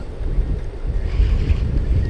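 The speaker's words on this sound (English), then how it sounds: "Sorry about the wind. It just kind of picked up." Gusting wind buffeting the microphone outdoors on a riverbank during float fishing for pink salmon, a steady loud low rumble with no voices.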